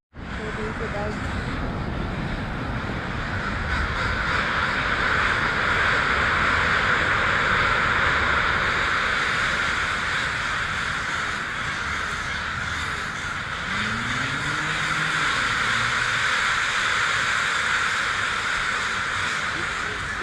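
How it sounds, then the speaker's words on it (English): Crows caw as they gather at sunset in wetlands along a boardwalk, a dense distant chorus under a steady roar of traffic and wind with occasional voices nearby. "we're gonna see a lot of crows descending on this place soon"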